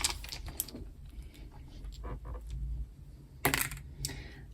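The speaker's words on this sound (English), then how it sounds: "So we're rolling the third set of dice for you" A set of nine small mystery dice is rolled, giving scattered light clicks and rattles with a sharper clatter burst near the end. Sound is fairly quiet against a low background hum.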